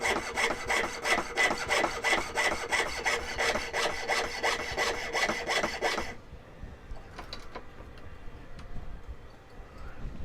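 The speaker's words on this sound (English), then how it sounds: "at a certain point, you're going to feel and hear the saw change" A hand saw cuts through wood along a marked line, with fast, steady, rasping back-and-forth strokes for about six seconds before the cutting stops and only faint handling noises remain.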